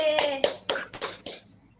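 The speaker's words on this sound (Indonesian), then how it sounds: "Kita tepuk tangan dulu semua." Children clap their hands together in a classroom, about six sharp claps in a loose, uneven rhythm, close and fairly loud, fading out at the end.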